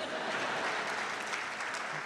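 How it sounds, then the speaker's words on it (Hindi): Audience applause at a kavi sammelan poetry gathering in Kota, a dense, steady wash of many hands clapping throughout the short stretch. "अब आपकी तालियां उठेंगी।"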